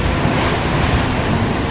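Large ocean swells crash and surge during a Pacific crossing from Japan to Alaska, with strong wind buffeting the microphone in a loud, continuous roar.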